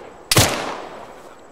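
A single sharp gunshot from a tactical shooter video game bursts out nearby and rings into a decaying tail, with no talk over it.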